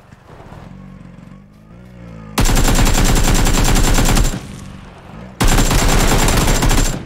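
Two long sustained bursts of automatic gunfire in the battle royale game PUBG, loud and close, each lasting about two seconds with a quieter pause between them and faint engine-like hum underneath.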